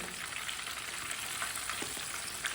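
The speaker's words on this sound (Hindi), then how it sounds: "मच्छी को अच्छी तरह फ्राई करना, कच्ची ना रहे।" Fish pieces frying in ghee in a pan on a stove, giving a steady, fairly soft sizzle that crackles throughout with a few brighter pops.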